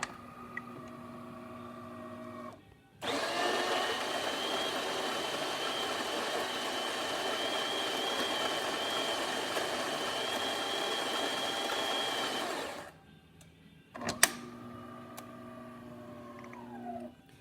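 A DeLonghi espresso machine runs a test shot after a full tune-up, giving a steady, moderately loud pump hum with harmonic tones for about ten seconds, bracketed by quieter machine tones and a click.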